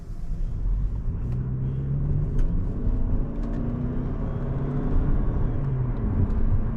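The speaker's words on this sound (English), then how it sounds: "I know y'all hear that turbo." A 2025 Toyota Camry SE AWD is driven along, its engine and road noise forming a steady, even low rumble from inside the cabin, with no talking.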